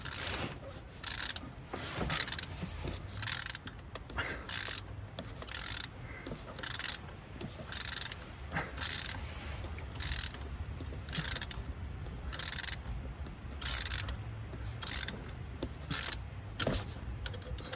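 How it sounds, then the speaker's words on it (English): A ratchet wrench clicks in steady repeated bursts as it turns a nut up a bolt to press the pilot bearing out of the crankshaft of a Ford 7.3/6.9 diesel engine, a screwdriver holding the nut. Close, rhythmic ratcheting, no talk. "I'm holding that nut from spinning with the screwdriver, and I'm turning the ratchet"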